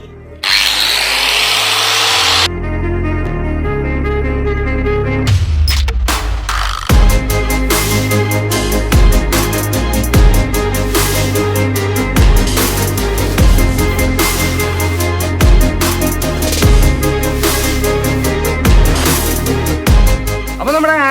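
A power tool buffs polish onto the blade of an old hand saw during restoration, a loud continuous motor whine close up with repeated scraping and rubbing strokes throughout, after a brief burst of broadband noise at the start.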